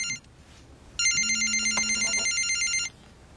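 An indoor telephone rings once, a bright electronic trill lasting about two seconds with a steady low hum under it, then stops, leaving a quiet room.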